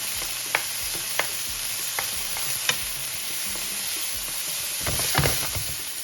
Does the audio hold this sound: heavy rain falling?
no